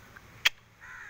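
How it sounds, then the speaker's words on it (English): A crow gives one loud, abrupt caw at close range, followed by faint background noise and a quieter, drawn-out sound trailing off. "Look at that crow."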